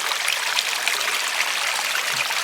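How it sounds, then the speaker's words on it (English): Small stream of flowing water beside a narrow lakeside hiking trail, a steady close bright rushing and trickling with no talk. "Here's another fun little flowing water area."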